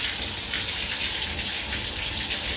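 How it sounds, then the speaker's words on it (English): Leftover water patters from a Kohler shower head as a dense, steady hiss of fine droplets striking a wet surface, close and continuous, with no talking. "That's just residual water."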